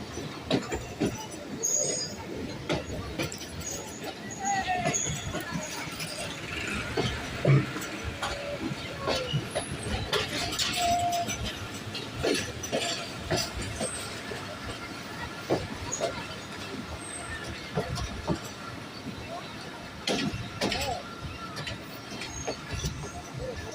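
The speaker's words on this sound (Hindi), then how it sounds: "हसन अब्दाल अप्रोच कर रही है ट्रेन 14 डाउन।" Awam Express passenger train with a Chinese-built locomotive rolls slowly into Hasan Abdal station in fog and rain, wheels clattering and squealing over points, with hissing and rumbling carriages throughout and faint voices now and then.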